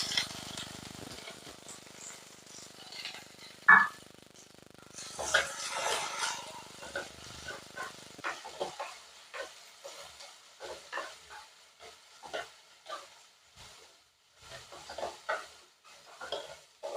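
Chopped spinach stems for a spinach and dal curry fry quietly in a pan, with a soft sizzle and irregular scraping stirs that grow brisker partway through.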